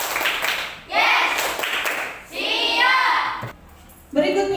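An elementary school class does a patterned ready clap in a classroom, with bursts of many small hands clapping together and children's voices chanting between and over the rhythmic claps.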